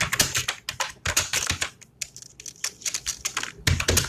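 Rapid, steady typing on a computer keyboard, with dense bursts of crisp key clicks and a few short pauses, heard up close with no talking.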